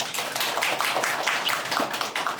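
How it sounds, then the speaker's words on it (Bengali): A crowd claps loudly for Rajin, a student at Prottoy Academic honoured for first place in an SSC pre-test exam, with dense steady applause running the whole time and no voices. "রাজিনের জন্য একটা জোরে সোরে হাত তালি"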